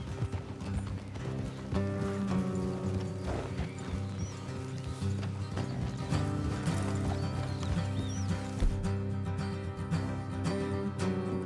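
Steady clip-clopping of horse hooves with a snort or whinny in Red Dead Redemption 2, over a continuous musical background with a game-like sound mix.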